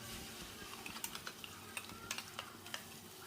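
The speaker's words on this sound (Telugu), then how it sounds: "ఫ్రై చేసుకోవాలి, పచ్చివాసన పోయినంత వరకు ఫ్రై చేసుకోవాలి" Onion, curry leaves and a ground spice paste frying for a fish curry, a faint steady sizzle with light spoon clicks and scrapes against the pan.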